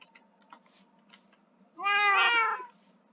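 A Minecraft cat lets out a single drawn-out meow, fairly loud and close, rising above quiet game ambience with a few soft clicks before it.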